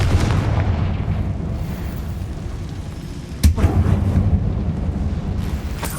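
Bombarda and Confringo spell blasts in the Hogwarts Legacy video game, inside an abandoned mine: a low, rumbling bed of sound broken midway by one sharp, loud blast.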